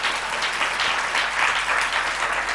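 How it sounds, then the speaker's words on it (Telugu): Steady applause from a church congregation praising God in worship, dense and even throughout with no voices breaking through. "చప్పట్లు కొట్టి దేవుని స్తుతిద్దాం"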